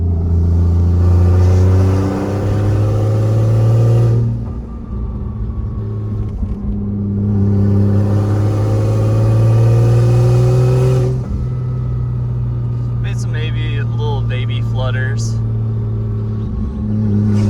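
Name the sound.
Toyota Aristo single turbo car on gentle test drive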